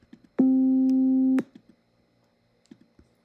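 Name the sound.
synthesizer tone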